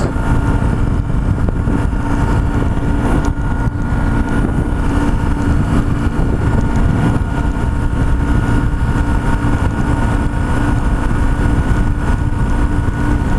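A BMW R1150GS motorcycle cruising in third gear on Highway 101 near Ventura, California, gives a loud, steady engine drone mixed with heavy wind rush, constant throughout with no pauses.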